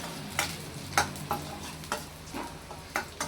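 Rava (semolina) browning as it fries in a pan for sweet rava kesari, with a steady low sizzle broken by about eight short scraping stirs of a spoon at an uneven rhythm.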